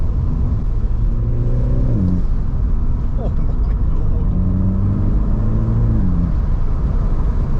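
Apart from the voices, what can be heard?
turbocharged car engine accelerating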